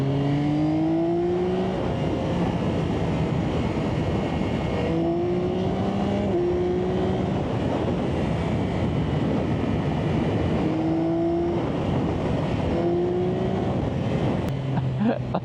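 A Yamaha XSR900GP motorcycle engine in sport mode pulls hard through repeated acceleration runs, each rising whine cut by quick gear shifts, heard from the rider's position under steady wind roar.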